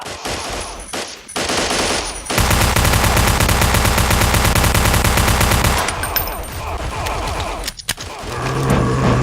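Rapid, continuous automatic gunfire from shooting zombies in the video game Blockade 3D, loud and dense for several seconds with bursts before and after and brief pauses between.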